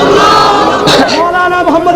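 A crowd at an Islamic religious speech gathering shouts together in response to a takbir call. The roar swells briefly over a steady, loud wash of voices.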